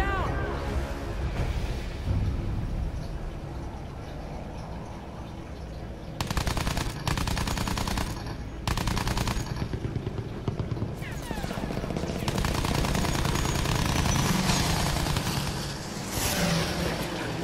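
Sustained machine-gun fire aimed at German planes in Battlefield 1 comes in long, loud, dense bursts separated by short pauses. Engine drone and other battle noise run beneath, and voices talk over parts of it.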